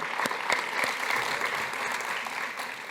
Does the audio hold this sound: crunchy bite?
no